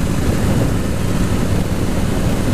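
Harley-Davidson motorcycle engine running loud and steady up close, a dense continuous low rumble with no pauses.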